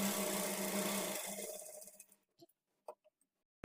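A sewing machine stitching a blouse runs with a dense mechanical whir that winds down and stops, followed by a few faint clicks and taps in the quiet.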